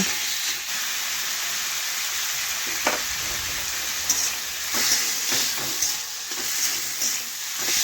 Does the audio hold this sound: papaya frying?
yes